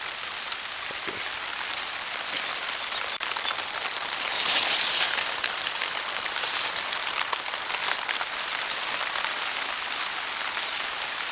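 Steady rain falls on a vegetable garden with pumpkin and cucumber plants, a continuous hiss of drops on leaves and soil that swells slightly midway, with no voices over it.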